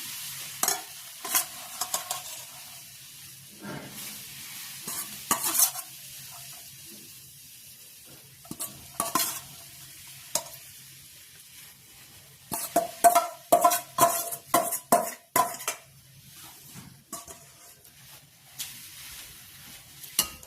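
Grated carrots being stirred in simmering milk in a pan for gajar halwa, with repeated scraping and clattering strokes over a soft sizzle, the stirring coming in bursts with quieter pauses between.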